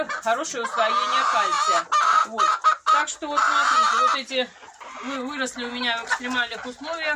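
Chickens in a backyard coop at morning feeding, clucking and calling loudly and close beneath someone talking continuously.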